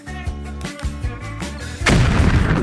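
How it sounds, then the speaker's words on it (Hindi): Big cocoa chocolate explosion effect during an emoji chocolate fountain fondue challenge: rhythmic thumping music gives way to a sudden, broad, loud blast that carries on as a dense, rushing roar. "यह थी बड़ी सी कोको विस्फोट।"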